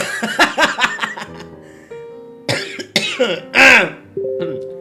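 Several short, sharp coughs and throat-clearing bursts come in quick clusters, close and fairly loud, with brief pauses between them.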